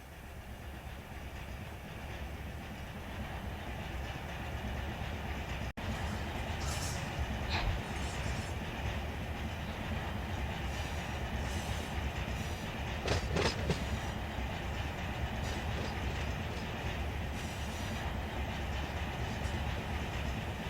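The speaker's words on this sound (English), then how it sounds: "let's start slowing the train down here" Freight train moving slowly in the Run8 Train Simulator game on the Arvin Branch, a steady low rumble with occasional wheel clanks and brief high squeals.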